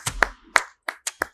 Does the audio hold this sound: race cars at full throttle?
no